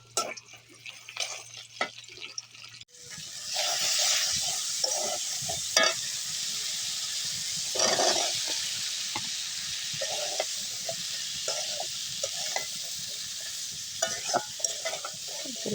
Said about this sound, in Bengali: কষাইতেছি।